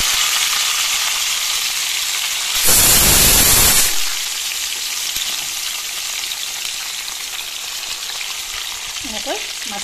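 Fish pieces frying in hot oil in a kadai for an Assamese fish curry: a steady, close sizzle that surges into a louder, harsher crackle for about a second as more fish goes in, then settles back. No one speaks.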